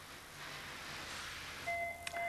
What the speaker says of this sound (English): That's the alarm for breakfast, I think,